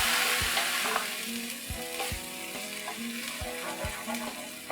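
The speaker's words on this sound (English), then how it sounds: "into this hot seasoning, I'm going to put in the ground spice paste. Give it a good mix." Ground spice paste sizzles loudly in hot seasoning while being stirred, with steady frying hiss. Repeated low scraping thumps from the spoon come at a regular rhythm, close up, with no voices.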